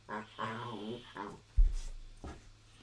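A small Chihuahua pug mix dog whimpers and growls in short, close bursts indoors, with a low rumble between whines.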